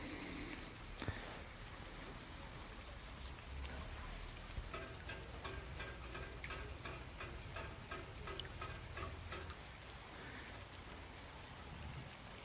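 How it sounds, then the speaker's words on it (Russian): Light autumn rain falls steadily across a garden in early November in a Kuban village, a soft continuous patter with scattered sharper drip ticks, close by and alone with no voices. "А тут мелкий дождь идет."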